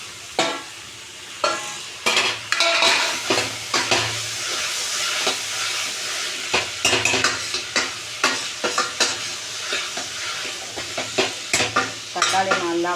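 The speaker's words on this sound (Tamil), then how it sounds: "அடுத்து நம்ம தக்காளி போட்டுக்கலாம்." Chopped tomatoes fry in oil in a pan for a mutton curry, with a constant sizzle broken by repeated scraping stirs of a spoon, close and fairly loud.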